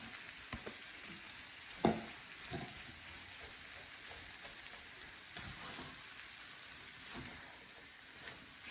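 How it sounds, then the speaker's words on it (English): Onions sautéing in oil and butter in a pan give a steady, soft sizzle with a few sharp clatters of stirring and tossing, close by and fairly quiet, with no one talking. "I'm gonna add in all these onions"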